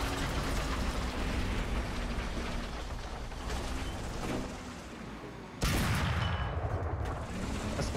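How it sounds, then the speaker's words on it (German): War Thunder tank battle audio with a sudden loud cannon blast near the end, then a sustained rumbling roar, over a constant background of engine and battle noise. "Das war der erste Schuss, der schon vorbeiging."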